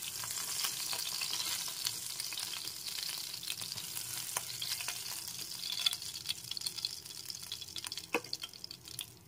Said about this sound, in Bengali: এখন মাছগুলোকে আমি ভেজে নিচ্ছি।